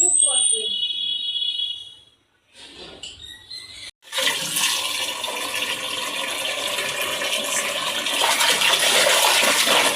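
Fish being rinsed in water by hand in a home kitchen, a steady loud splashing and running-water wash that starts after a brief pause, with faint voices early on.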